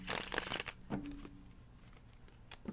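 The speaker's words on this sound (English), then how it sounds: "One more shuffle, Sagittarius reading." Tarot cards being shuffled by hand during a Sagittarius reading, giving a few quick riffling bursts near the start and one at the end, close and fairly loud, with quieter rustling between.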